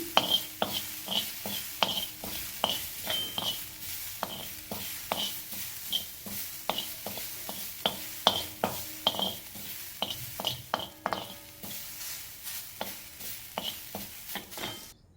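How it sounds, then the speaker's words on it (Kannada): Grated coconut stirred in a hot pan after cinnamon and cloves, a steady run of soft scraping and light clinking strokes of a spoon against the pan, close and fairly quiet, with no talking. "ಕಾಯಿ ತುರಿನ ಹಾಕ್ಕೊಳ್ಳಿ ಇದು ಕೂಡ ಸ್ವಲ್ಪ ಬಿಸಿ ಮಾಡಿ ತೆಗೆದುಬಿಡಿ"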